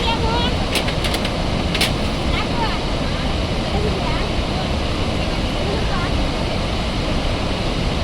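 Gaganachukki waterfall on the Kaveri river roars as a dense, constant wall of rushing water, loud and unbroken throughout, with a few faint brief sounds on top.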